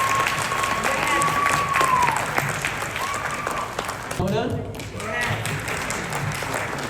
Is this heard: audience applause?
yes